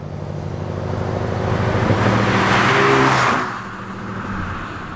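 A 2019 Hyundai Elantra GT N Line with a dual-clutch gearbox pulls hard at full throttle in first gear, engine note rising in pitch for a few seconds before easing off into a quieter hum.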